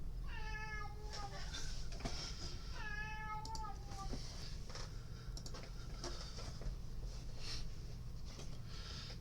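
Pet cats squabbling indoors, two drawn-out rising meows near the start followed by softer scuffling and patter, steady room hum beneath and no talking.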